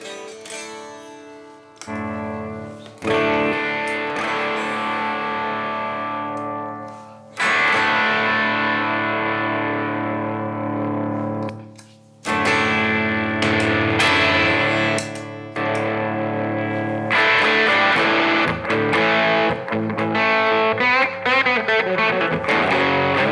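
An electric guitar runs through an Indumentum overdrive pedal, switching between distortion clipping modes: loud, saturated chords and riffs ring out, with sustained passages broken by brief gaps and a faster picked run near the end, no talking.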